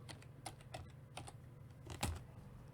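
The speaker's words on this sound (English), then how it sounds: "Sorry, my typing's so awful." Typing on a computer keyboard: a quick, uneven run of light key clicks, fairly faint and close, with no voices.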